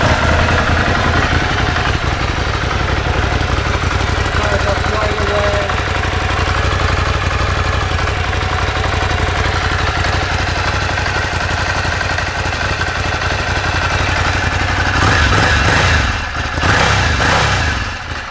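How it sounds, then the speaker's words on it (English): A 2017 Ducati Scrambler 800 idles steadily and close by, its engine note loud and continuous throughout with a brief rise in level near the end. "It's a Ducati Scrambler."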